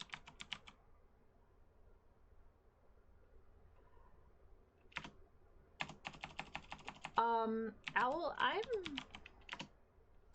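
Short bursts of computer keyboard typing, clicking in quick clusters with pauses between them, close and fairly crisp; a voice speaks briefly near the end.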